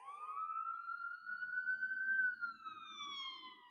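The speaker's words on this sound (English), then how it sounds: "siren." Wailing siren of an EMS emergency vehicle, one long sweeping tone that rises and holds over a few seconds, fairly loud and clear with faint traffic rumble underneath and no talking.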